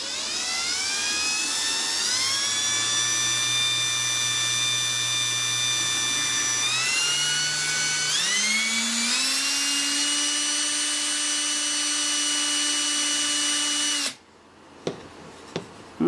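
Power drill boring a hole while making a rotating tumbler-cup turner stand, a loud sustained whine that steps up in pitch as it speeds, then cuts off near the end, followed by a few faint clicks.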